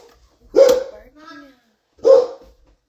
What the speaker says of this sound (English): Barking at the neighbors.